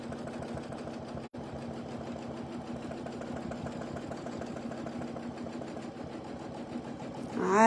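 A quilting sewing machine runs steadily while tacking stitches, a close, even mechanical whir with rapid needle rhythm and a brief pause early on.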